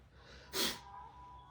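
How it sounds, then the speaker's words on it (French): One forceful nasal exhalation during a breath-of-fire breathing exercise, a short sharp close puff of air rising out of a quiet room. "Expiration puissante, investie par le nombril."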